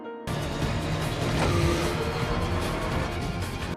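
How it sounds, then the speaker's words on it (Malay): A car engine runs steadily in a Fast and Furious film scene, a loud close rumble starting abruptly and holding throughout with no talk. "Dom tersenyum ketika dia segera mengenali bunyi enjin"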